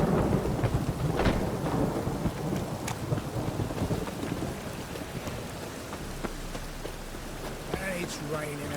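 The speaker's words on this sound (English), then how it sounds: "It's raining again." Rain falls steadily in The Witcher 3 video game while thunder rolls and cracks nearby, with a few sharp claps early on and a low rumble that fades, and some faint voices beneath.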